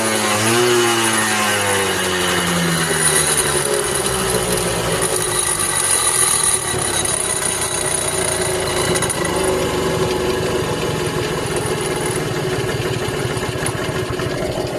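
A 1977 Yamaha Champ 80cc two-stroke minibike engine idles steadily nearby, a continuous buzzy putter that rises briefly in pitch at the start, then settles into an even rattling drone.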